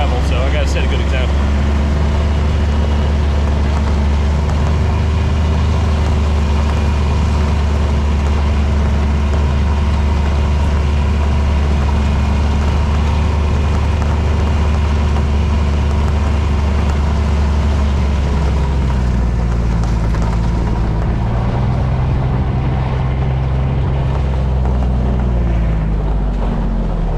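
A vehicle rolls slowly down a gravel driveway on a farm, giving a steady low engine rumble with wind buffeting the microphone. The drone shifts slightly toward the end.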